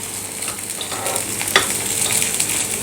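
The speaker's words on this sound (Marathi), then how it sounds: "लो टू मिडियम गॅसवरती हे आप्पे भाजून घ्यायचे आहेत" Ragi appe, made from finger millet batter, roast in an appe pan over low-medium gas with a soft steady sizzle and a few light crackles, close and unbroken, with no voices.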